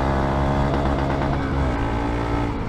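A Honda Monkey 125 motorcycle engine revs loudly and close on a rally-style ride, a steady, dense exhaust note with shifting pitch throughout and no voices.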